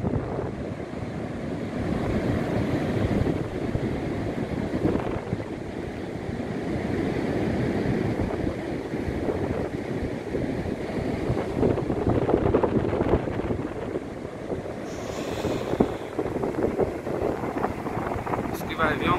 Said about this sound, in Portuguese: Isso que vai vir é um temporal aí, meus amigos. Olha, um vento forte.